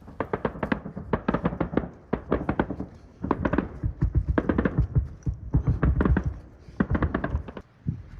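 Gunfire traded between trenches on a front line in Ukraine, heard as bursts of rapid automatic shots in clustered volleys with short gaps, loud and fairly close, no talking.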